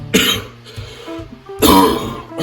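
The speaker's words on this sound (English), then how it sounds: "I actually still have a pretty bad nagging cough that just won't go away." Two harsh, close coughs separated by a brief pause, loud and raspy against a quiet background.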